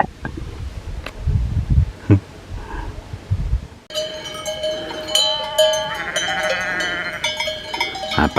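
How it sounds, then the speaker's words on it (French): A flock of sheep bleats on a high mountain pasture near La Clusaz in the Haute-Savoie Alps, at about 2439 m. Wind and footsteps come first, then many overlapping bleats, some wavering, and a few cowbell clanks at moderate distance. "Un paquet de moutons, hein."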